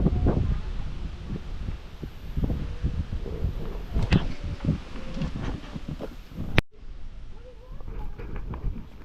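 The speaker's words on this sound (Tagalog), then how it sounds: "Mahangin pa rin ano." Gusty wind buffets the microphone outdoors near a hut after a typhoon, a steady broadband roar with rustling swells and a sharp dropout toward the end; faint voices are occasionally audible underneath.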